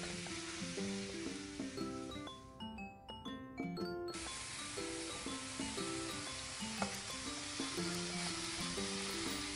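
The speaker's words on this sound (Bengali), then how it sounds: "আলু পটল কষাবো এমনভাবে অল্প অল্প জল দিয়েও মাঝে মাঝে কষিয়ে নেব ভালো করে" Potatoes and pointed gourd sautéed in a pan with a little water for a potol chingri dish, a continuous close sizzle with stirring scrapes, heard under tinkling background music.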